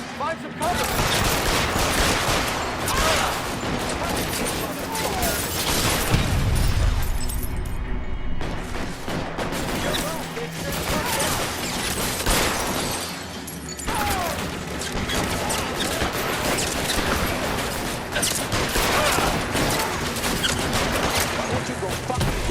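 Dense gunfire in a shootout in the video game L.A. Noire: rapid bursts and volleys of shots, with shattering impacts, crowd the whole stretch at close range, mixed with game background noise.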